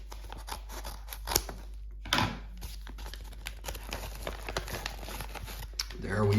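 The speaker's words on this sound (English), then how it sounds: "Let me do this one next. Let's use the scissors." Scissors snip through mail packaging of cardboard and paper, a few short sharp cuts mixed with crinkling and rustling at close range, while a person talks.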